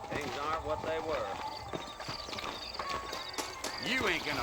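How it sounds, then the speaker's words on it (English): Saddled horses in the Red Dead Redemption game clip-clop steadily in a town setting, hoof beats running through the clip beneath spoken dialogue and background game sounds. "I got the horses saddled up and ready out front."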